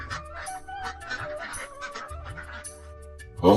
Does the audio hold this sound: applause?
no